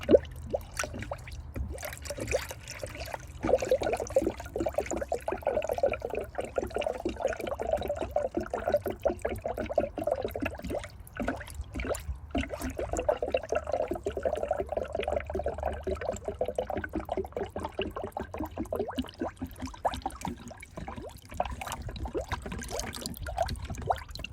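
Coolant gurgles and trickles steadily as air purges from the cooling system of a 2009 Toyota Camry, a continuous close, splashy flow with bubbling fluctuations and no talk.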